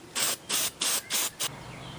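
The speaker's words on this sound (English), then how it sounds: "right now I'm spraying on the first coat of gloss black" An aerosol can sprays a first coat of gloss black paint over primer while restoring a Philco model 37-2670 radio, five close, loud hissing bursts in quick succession, the last one shortest, with no speech.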